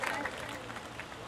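Applause from an audience at a student honours ceremony, a steady dense clapping texture held at an even level for a short moment.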